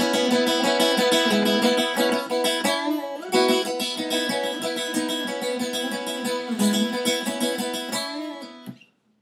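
Lead electric guitar playing the main riff of a song, a steady driving run of bright repeated chords and notes, played alone and loud before fading out at the end.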